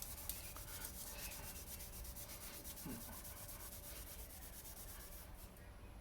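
Brake lines are scrubbed clean with a Scotch-Brite pad, a faint, steady, rhythmic rubbing close by that continues throughout with no talk.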